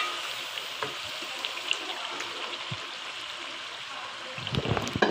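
Chicken karahi masala roasts in a pan with a soft, continuous sizzle, occasional light stirring taps, and a few louder scrapes near the end.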